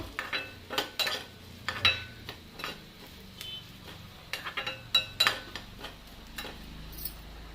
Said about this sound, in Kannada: ಸ್ವಲ್ಪ ಕರಿಬೇವು ಹಾಕ್ತೀನಿ ಒಳ್ಳೆ ರೋಸ್ಟ್ ಆಗಬೇಕು ಕರಿಬೇವು